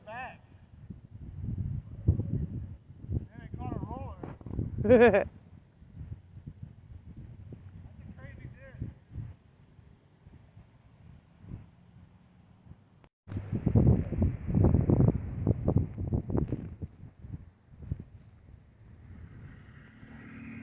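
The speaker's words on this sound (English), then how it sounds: "That wind is not helping." Wind gusting outdoors on a disc golf course, rumbling and buffeting the microphone in uneven waves with a strong surge midway, while people talk over it.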